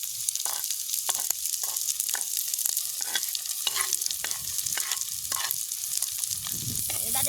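Chickpeas and eggplant sauté with onion, green chili and garlic in a village kitchen, a steady sizzle under repeated scraping stirs of a spoon against the pan, close and continuous.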